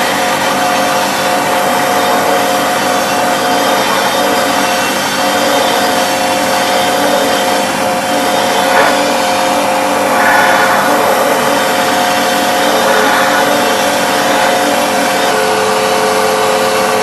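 A Karcher pressure washer running at 1800 psi and 6 litres per minute for wet sandblasting with sand, giving a loud, steady hissing roar that continues unbroken with no talking.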